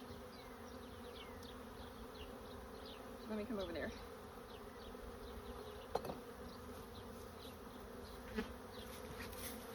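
Bees buzz steadily inside a newly installed beehive during its first inspection, a low, constant hum with a few louder passes close by. A person speaks briefly over the buzzing.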